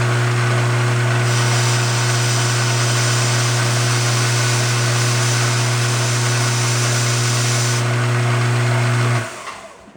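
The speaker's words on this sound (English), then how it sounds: "we're just going to sand it off, so we'll see" A motorized sander tapers the tip of a golf shaft with a loud, steady humming whir that holds constant for about nine seconds before spinning down abruptly near the end.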